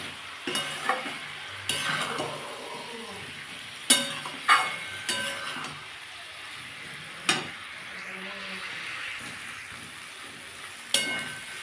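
Spiced fish, potato and beans sautéing in a pan with cumin, chilli and turmeric, a soft continuous sizzle broken by repeated sharp scrapes and clacks of stirring, close by and fairly quiet.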